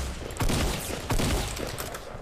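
Sniper gunfire in the video game Fortnite, with two loud, sharp bursts of shots in quick succession over game ambience.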